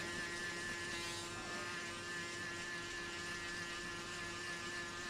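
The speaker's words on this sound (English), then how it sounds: "Now I'm gonna grab the shaver." A steady electric buzz with a constant hum, continuous and close, with no talking.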